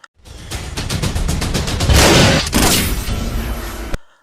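A loud, rapid burst of gunfire in a film, shots firing in quick succession for several seconds before cutting off abruptly.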